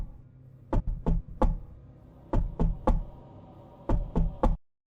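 Heavy knocking on a front door in a spooken horror story, three loud groups of thuds, two to three blows each, separated by short pauses, close and alone over a low hum before falling silent.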